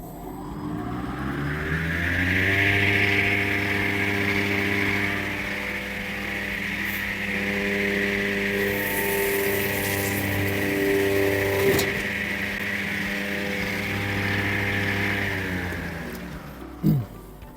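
An STvega B industrial vegetable slicer runs while slicing radish into 1, 2 and 5 mm slices, giving a loud, steady motor hum with layered tones that holds evenly and then stops abruptly.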